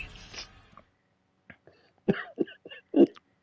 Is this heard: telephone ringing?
no